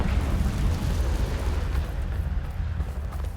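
Confringo fire spell blast in Hogwarts Legacy, a dense roaring explosion with a heavy low rumble sustained steadily for a few seconds, loud and close.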